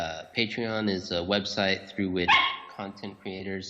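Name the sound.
dogs barking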